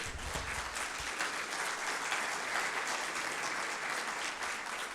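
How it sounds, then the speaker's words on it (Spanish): A church congregation applauding during a sermon, a continuous wash of many hands clapping, steady and fairly distant, faint overall with no talk over it. "Denle una ofrenda de palmas al Señor"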